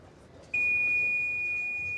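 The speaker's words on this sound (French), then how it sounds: "Alors ça c'est le bip, hein." A pétanque match shot-clock timer gives a single steady electronic beep that starts abruptly and holds, loud and clear over faint background ambience at a competition.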